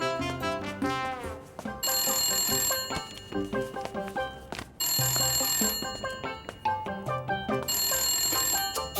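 A telephone rings in a home with a bright electronic trill, three long bursts separated by short pauses, loud and close over a steady tonal background.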